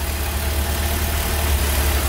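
A car engine idles after being restarted while running almost out of fuel, a loud, steady, low rumble close by with no voices.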